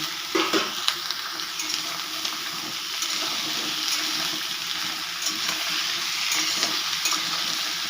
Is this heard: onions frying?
yes